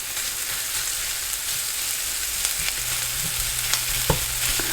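Plant-based sausage with mushrooms and onions frying in a pan, a dense steady sizzle with occasional soft scraping taps as the food is moved, close and even throughout.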